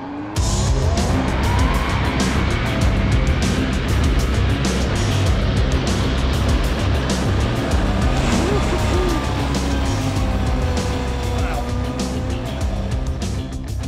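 A Kawasaki Z H2 supercharged motorcycle pulls hard on the road, its engine note droning steadily with rising and falling harmonics through gear changes, loud and continuous under heavy wind rush.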